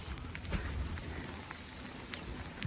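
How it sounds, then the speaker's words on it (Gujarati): Rain falls steadily on a farm, a soft continuous wash of noise broken by scattered drop ticks, fairly faint and with no voices. "વરસાદ ચાલુ થઈ ગયો"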